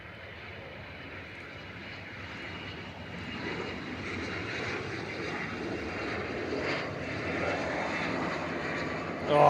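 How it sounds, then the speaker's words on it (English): Silesia Air aircraft landing at Manchester Airport with bucket-type clamshell thrust reversers deployed, a broad engine roar that swells steadily over the run and peaks sharply at the end, with no talk. "Oh, it's got bucket reversers."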